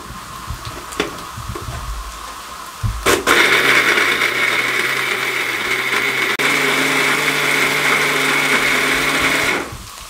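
A kitchen mixer grinder blending coconut, khoya and milk into a paste for barfi, a loud steady whirring drone that starts after a few knocks and runs for several seconds before cutting off.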